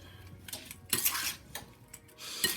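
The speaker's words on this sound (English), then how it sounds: "Going to give these a quick stir until they're well combined." A utensil stirring a thickening-agent mixture for a berry galette in a bowl, giving quiet scraping and clinking taps in an irregular rhythm, close up, with no talking.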